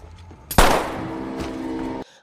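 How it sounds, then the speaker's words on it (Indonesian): A single loud gunshot from a gunfight scene in an Indian film: a sharp, close crack followed by a long, ringing, reverberant decay that fades after about a second and a half, with no voices. "Sachin langsung ditembak mati saat"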